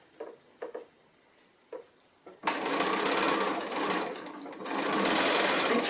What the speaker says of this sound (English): And now we want to stitch across there